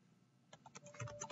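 Quick bursts of computer keyboard typing, a handful of soft close clicks starting after a quiet moment and continuing in an uneven rhythm.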